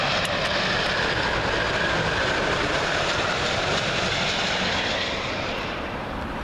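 A British Airways Airbus A350 arriving at Heathrow from Denver gives a steady, loud, broad jet roar that fills the whole stretch and eases off slightly near the end.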